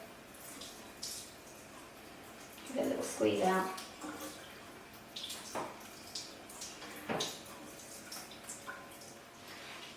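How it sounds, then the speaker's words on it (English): Water from a tap runs and splashes over a makeup brush at a sink in brief, soft bursts and drips, while a person talks throughout. "Then go back to the tap. You're just going to run a little bit of water over it."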